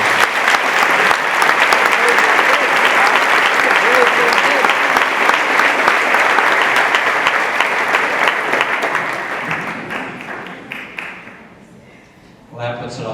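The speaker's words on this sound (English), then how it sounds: "Let's give them a round of applause." An audience at a school professional development day applauds loudly and steadily for about ten seconds, then the clapping fades out and a voice begins speaking.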